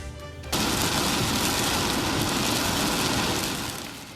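Heavy rain from a summer afternoon storm starts abruptly after a brief quiet moment, then pours down as a loud, dense, steady hiss that eases off slightly toward the end.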